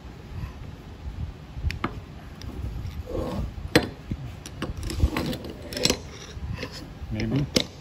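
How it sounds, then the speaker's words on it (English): Flathead screwdriver prying apart a vulcanized silicone rubber mold, with scattered clicks, scrapes and small snaps of metal against rubber, close up, while a person talks throughout. "And we gotta pop it apart. Getting a flathead screwdriver works really well"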